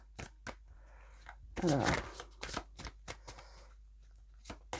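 Tarot cards being shuffled in rapid bursts of crisp riffling and flapping, fairly close, with one louder riffle in the middle and a brief spoken word at the start.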